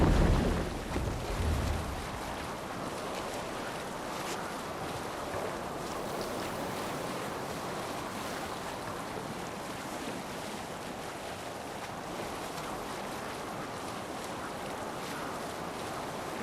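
A longship sailing out of a fjord in Assassin's Creed Valhalla, with steady rushing water and wind noise, broad and continuous throughout, no voices.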